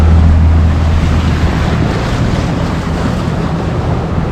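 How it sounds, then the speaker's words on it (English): A sailboat motor sails through waves in wind, a loud steady roar of rushing water and wind buffeting the microphone with a low engine hum underneath, with no talk. "We found a bit of wind, we're motor sailing"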